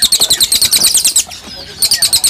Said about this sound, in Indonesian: Nah mas paling pojok nih ada burung si lilin lagi nih